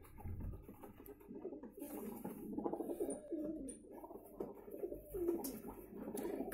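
Pigeons coo continuously in soft, throaty burbling phrases close by, overlapping one another against a low background hum.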